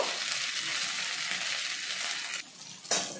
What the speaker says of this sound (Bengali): তেলটা এখন ভালোভাবেই গরম হয়ে গেছে ওর মধ্যে দিয়ে দিচ্ছি চিকেন ম্যারিনেট করা চিকেনগুলো